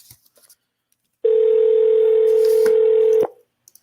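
Steady ringback tone on an outgoing telephone call, one loud unbroken electronic hum lasting about two seconds, near and clear, with faint clicks before it and silence after.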